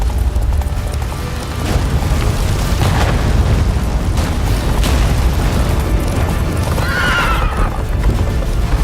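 Roach, Geralt's horse in The Witcher 3 video game, gallops in rapid pounding hoofbeats and lets out a whinny, over a rumbling battle din with booming blasts.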